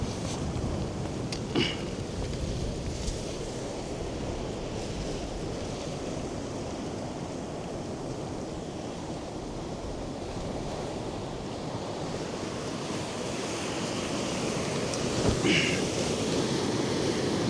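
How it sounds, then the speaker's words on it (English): Sea waves break and wash steadily by St Marys Lighthouse, a continuous roaring surf mixed with wind buffeting the microphone, swelling slightly louder toward the end. "Those waves are getting big"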